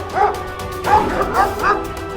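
Several dogs brought by soldiers into a seminary chapel bark and yip in a pack, with rapid overlapping calls close by and a voice speaking underneath.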